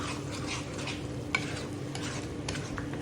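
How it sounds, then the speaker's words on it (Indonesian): A spoon stirs chicken wing sauce with sugar in a pan, for Korean-style crispy wings, giving a soft, steady scraping and swirling with a faint sizzle beneath and one brief clink. "kita aduk dulu sampai semuanya rata dan halus"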